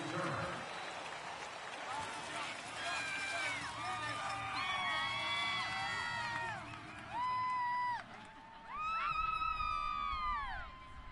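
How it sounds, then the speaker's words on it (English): Stadium crowd noise from an EA Sports NFL video game on PS4, Green Bay Packers against Tampa Bay Buccaneers, a steady roar of cheering and whistles with rising shouts swelling in waves, loud and continuous throughout. "This crowd is ready"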